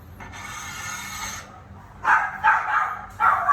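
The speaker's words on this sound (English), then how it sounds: "Oh, the dogs are angry." After a steady hiss, a dog barks several times in sharp, close bursts, three or four loud barks in quick succession.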